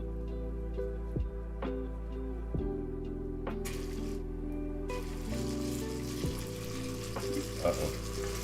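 Curry ingredients browning in a pan give a steady, close sizzle and fry throughout, with occasional clacks and scrapes as pieces are flipped over.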